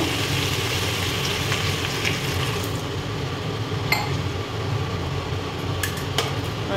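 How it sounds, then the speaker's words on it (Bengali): Water goes into a pan of sizzling drumstick (sajne danta) curry, giving a steady, broad hiss with a few sharp metallic clinks of a utensil against the pan. "এবার জল দিয়ে দেব।"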